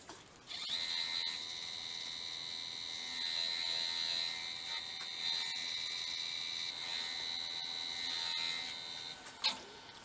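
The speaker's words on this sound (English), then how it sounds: "just trying to buff it out a little bit" Buffing a wooden bowl on a lathe spinning at 1200 RPM, a steady whining hum with sustained tonal harmonics lasting about nine seconds, moderately loud, ending in a brief knock.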